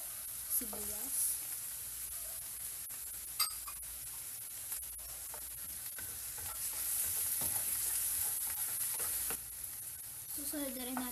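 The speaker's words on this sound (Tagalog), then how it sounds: "Tapos igigisa natin yung ating bawang" Garlic and onion sizzle steadily in a hot pan for stir-fried bean sprouts, with a utensil scraping and stirring now and then and faint speech in the background.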